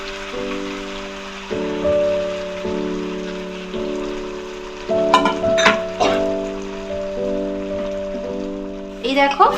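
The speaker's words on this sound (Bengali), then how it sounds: "এবার আমি কড়াইয়ের মধ্যে আমি যে ম্যারিনেট করে রেখেছিলাম আলু আর সমস্ত মশলা দিয়ে ওটা অ্যাড করব" Marinated potatoes and spices hit hot oil in a kadai, giving a soft sizzle under a steady background hum, with a few sharp spatters and clatters as the food goes in.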